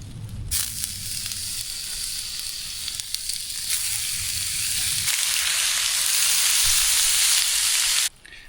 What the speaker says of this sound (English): Now I'm going to cook up some ham slices.